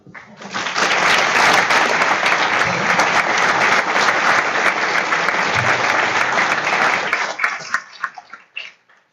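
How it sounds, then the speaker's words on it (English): Loud round of audience applause for student athletes at a county board of education meeting, sustained and dense before thinning into a few scattered final claps. "Give these guys a round of applause."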